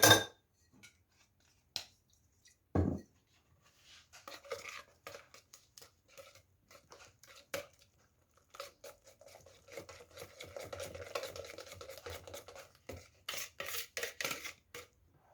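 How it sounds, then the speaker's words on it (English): Malva pudding batter mixed by hand in a bowl, with scattered spoon taps and clicks followed by a stretch of steady scraping and stirring, close and fairly quiet with no talk. "Then you can mix that in together."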